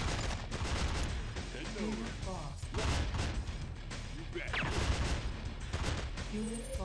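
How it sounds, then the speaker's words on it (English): In Command & Conquer: Tiberian Sun, a sniper's shots crack repeatedly across a noisy real-time strategy battle, scattered impacts and gunfire layered over continuous combat clamor. "someone who used the sniper sound effect"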